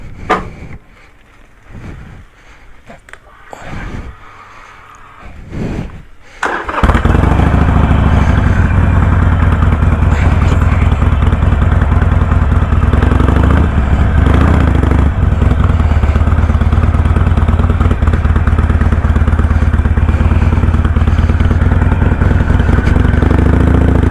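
A Harley-Davidson Sportster fitted with TC Bros. speedline handlebars starts with a few seconds of clunks and knocks. Then a loud, steady engine roar takes over and continues nonstop as the bike rides off, close to the microphone, with no voices.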